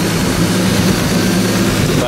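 Loud, steady engine roar running with no exhaust fitted, a continuous close-up drone that stays constant with no pauses.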